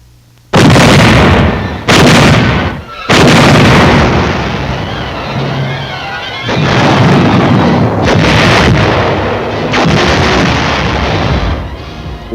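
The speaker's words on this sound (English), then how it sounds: "placed our artillery and commenced firing at" WWII artillery firing at a small offshore island in New Guinea: several heavy, loud booming blasts in quick succession, each followed by a rolling rumble, on old film soundtrack audio.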